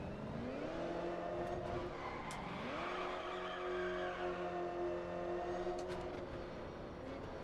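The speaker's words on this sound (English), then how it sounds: "This car sounds absolutely great." A car engine in the racing game Test Drive Unlimited Solar Crown drones steadily, its pitch rising and falling through gear changes and revs, with occasional tire squeals over a constant, moderately loud hum.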